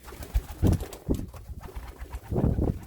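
Pigeons coo repeatedly in a loft, several soft, low, throaty coos arriving in short bursts, fairly close, with light rustling between calls; among the birds is a white yearling male pigeon.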